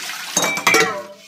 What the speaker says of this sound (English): So then we pour it in the strainer.